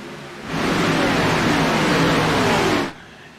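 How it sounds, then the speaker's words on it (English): Race car engines sweep past on the track, a loud roaring surge that swells in suddenly, holds for a couple of seconds, then cuts away and leaves quieter ambience. "You can hear those engines as they come by"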